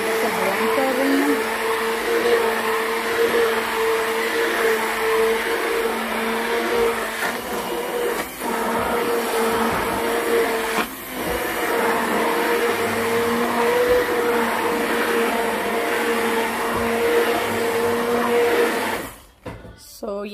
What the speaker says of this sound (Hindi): मैं इसको ब्लेंडर से ब्लेंड कर रही हूँ